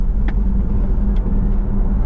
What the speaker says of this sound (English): I'm just going to put the foot down for you to show you what the acceleration is like.